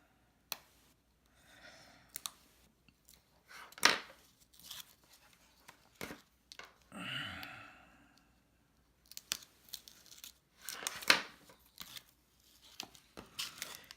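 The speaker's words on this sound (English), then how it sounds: "Then we're going to remove our tear and tape cover." Tear-and-tape backing being peeled off a paper Halloween craft treat bag: close, quiet crinkles and papery tearing strips with a few sharp clicks and rustles, scattered across a quiet room.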